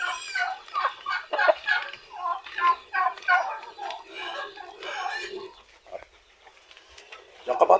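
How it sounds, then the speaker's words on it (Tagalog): A flock of backyard chickens waiting for feed clucks and cackles busily at close range, with overlapping calls rising and falling and a person talking at moments. "So ito yung ating mga manok at nag-aantay ng pagkain."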